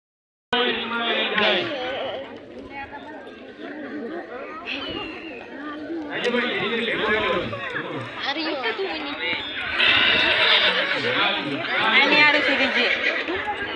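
Kathiyawadi and Marwari horses whinny amid a busy village fair crowd, with shrill neighs rising over constant chatter and babble; people talk loudly throughout.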